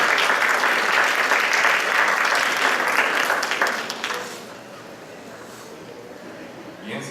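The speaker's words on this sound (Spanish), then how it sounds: "Un aplauso" Audience applause for an architect at a housing strategy event, loud dense clapping for about four seconds that then dies away into quiet room sound.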